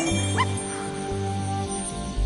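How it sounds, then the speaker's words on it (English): A dog in the video game I Am Dead gives a short, yippy bark over a steady low game hum, a single brief bark with a slight whimpering edge. "I'll go bark at the spirit now"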